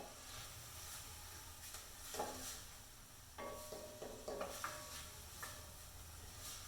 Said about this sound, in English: The herbs, you bring the flavor out if you saute them in the oil first.